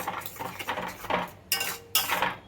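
Metal spatula scraping and clanking in a pan as spices are sautéed in plenty of oil for a rich koi fish curry, with quick busy scrapes and two louder sweeping strokes near the end, no talking.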